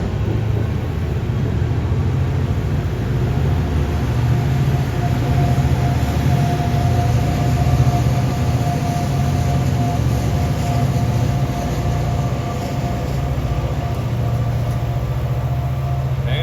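A steady, loud low rumble with a droning hum continues throughout, like a train rolling past at a distance without letting up.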